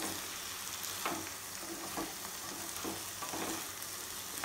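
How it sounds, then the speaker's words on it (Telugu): Drumstick (moringa) curry stirred with added salt in a pan over the heat: a quiet, steady sizzle with soft scraping strokes of the spoon at irregular intervals, no voices. "ఇప్పుడు ఇది కలిసేటట్టుగా కలుపుకోవాలి."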